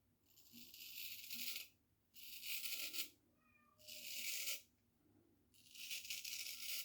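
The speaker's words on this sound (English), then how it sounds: "Cat's calling again." A cat meows in several long, drawn-out calls, four separate cries with short quiet gaps between them, fairly close in a quiet room with a faint low hum underneath.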